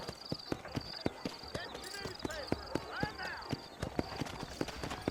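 Horse hooves clip-clop steadily in the Red Dead Redemption video game, a regular rhythmic trot of hollow knocks over a busy game background with voices murmuring underneath.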